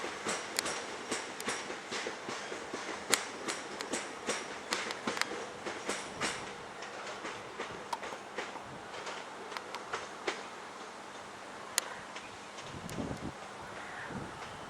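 Inside a Class 375 train pulling away from Ramsgate station, a quiet, rhythmic clickety-clack of wheels over rail joints runs beneath a steady rumble and some wind noise on the microphone.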